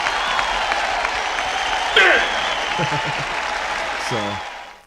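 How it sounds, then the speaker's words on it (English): A burst of applause from a crowd clapping steadily, with voices talking over it. "Let's give a hand clap to fries."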